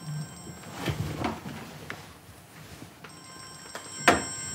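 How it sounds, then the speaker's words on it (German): A phone rings in a room, a soft electronic trill, with a sharper knock or click near the end. "muss dein Handy so laut klingeln?"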